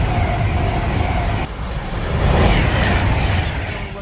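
A train on the West Coast Main Line roars through Lichfield Trent Valley station without stopping, a loud close rush of wheels and wind that swells midway.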